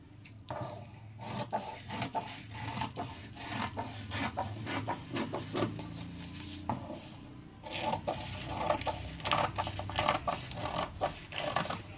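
Scissors cut through fabric for a baby's gown, close by, making a string of quick rasping snips and scraping rubs in an uneven rhythm with no one talking.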